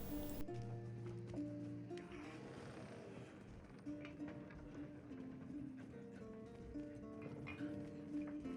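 Horse mount galloping in the video game Elder Scrolls Online, a steady run of hoof clip-clops under continuous game music, with a faint voice now and then.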